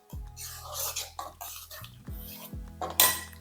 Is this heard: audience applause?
no